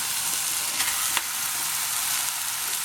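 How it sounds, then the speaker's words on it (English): Minced meat sizzling in a pan of frying vegetables for a Bolognese sauce makes a loud, continuous hiss with small spits and crackles, close up and free of speech. "At this stage, I'm going to add in my mince."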